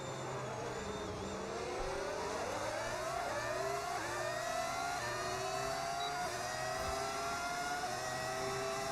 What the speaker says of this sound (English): I made the car sound like that. I use mods